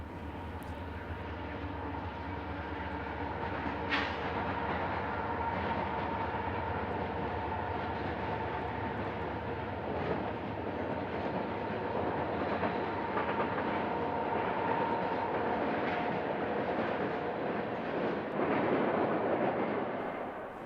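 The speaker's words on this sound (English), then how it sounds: "another eastbound UP train passed Barstow" An eastbound Union Pacific freight train rumbles past steadily near Barstow, California, a loud, continuous roar of wheels and cars with a low engine drone.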